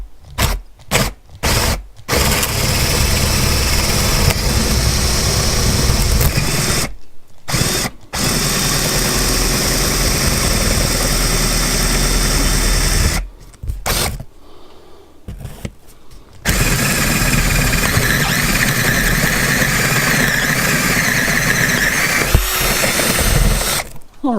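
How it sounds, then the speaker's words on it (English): A power drill fitted with a 3/4 inch bit bores a hole while a backup camera is installed on a vehicle, whirring loud and close in long runs broken by short stops and restarts. "Now I'm going to use a 3/4 inch bit so that I can get the wire nut all the way through the wire fitting."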